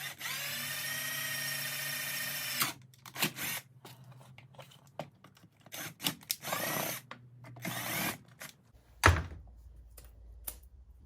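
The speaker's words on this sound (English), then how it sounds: "Need to be a bit more careful when drilling." A power drill drilling holes in plastic for a Yamaha Tenere 700 headlight protector whines steadily for a few seconds, then stops, followed by scattered clicks, knocks and handling noises of plastic close by.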